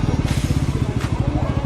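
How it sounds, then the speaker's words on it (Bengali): Bajaj Pulsar NS200 motorcycle engine on a brand-new bike, a close, loud, steady rapid idle thrum with a couple of brief airy bursts over it. "তো গাইস নতুন বাইকে একটা টেস্ট ড্রাইভ তো নেওয়া যায়"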